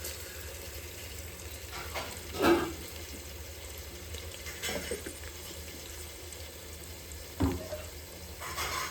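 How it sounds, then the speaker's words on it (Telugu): Ginger frying in a pan for a simple biryani, a quiet continuous sizzle broken by a few brief louder stirring scrapes. "అల్లం వేయించాం"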